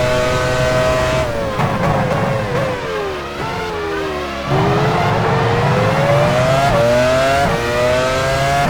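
A Formula 1 car leaving the pit lane at Sepang in F1 Challenge 99-02, the engine loud and close as it climbs through the gears with repeated rising whines and quick drops at each shift.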